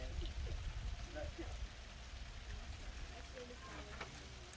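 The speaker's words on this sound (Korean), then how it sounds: "우리가 도착한 날 비가 내리기 때문에 부엘세바의 빗소리를 한번 들어보시죠." Rain falls at Beersheba, Israel, a steady, even patter and hiss over an outdoor site, continuous and moderately faint throughout.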